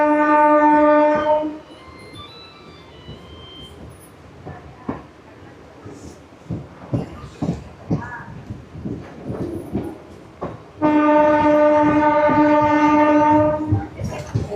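A MEMU electric passenger train on the Vijayawada–Machilipatnam line sounds a long, loud horn blast, runs with clattering wheel and track noise for several seconds, then sounds a second sustained horn blast. No one speaks.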